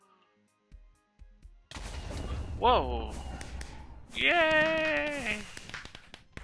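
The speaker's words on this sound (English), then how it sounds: "Fireworks!" Fireworks in the video game Minecraft: a couple of soft launch thumps followed by a burst of crackling booms, with a person's excited exclamations loud over the noise.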